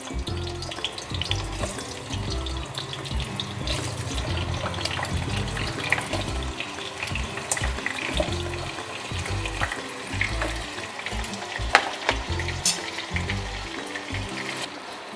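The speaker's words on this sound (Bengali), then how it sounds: "তেলটা কিন্তু গরম হয়ে গেছে এবার আমি এর মধ্যে দিয়ে দেবো প্রথমেই আলুগুলো দিয়ে দিচ্ছি" Potatoes drop into hot oil for a vegetarian potato and pumpkin dish, and a steady close sizzle follows, broken by bursts of crackling and occasional clinks of a utensil stirring.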